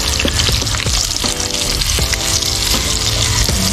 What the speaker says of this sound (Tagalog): gisa, ahos